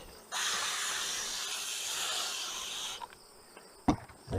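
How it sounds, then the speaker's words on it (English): Water sprayed from a spray bottle onto the paper in a honey bee box gives a steady, close hiss lasting a few seconds, then stops, followed by a couple of soft knocks and handling sounds. "I'm gonna spray the paper a bit."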